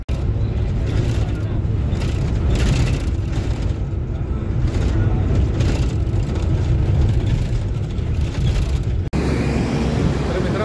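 A KPTC public bus pulls up on a street in Farwaniyah, Kuwait, its engine a steady low rumble mixed with traffic noise and wind, continuous and fairly close throughout.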